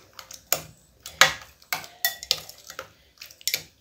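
A utensil stirring a pot of noodle curry with fish balls and fish cake, giving a run of irregular close clinks and scrapes against the pot, fairly loud, with no talking.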